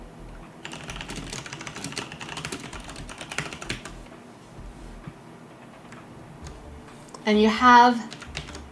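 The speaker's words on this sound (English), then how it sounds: "I'm typing it in chat so you can hear." Computer keyboard keys clatter in quick, uneven bursts close by during a livestream chat, with someone speaking over the typing and a brief louder vocal burst near the end.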